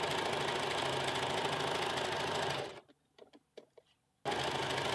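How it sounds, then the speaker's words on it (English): A sewing machine stitches the side seams of a western blouse at a 2.5 stitch length with a 1 cm seam allowance, running loud and steady up close, then stopping for a quiet stretch of small clicks before whirring again. "Now we're going to sew them together."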